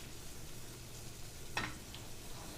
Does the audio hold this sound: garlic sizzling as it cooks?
yes